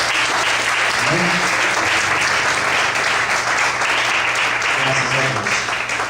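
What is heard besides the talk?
congregation applause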